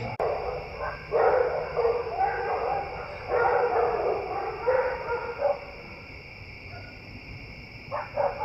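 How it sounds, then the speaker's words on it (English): Several dogs barking and yelping outdoors at a moderate distance, in irregular bursts that overlap and fade, with a short quieter stretch before a final flurry. "There's a battle of the dogs going on out there."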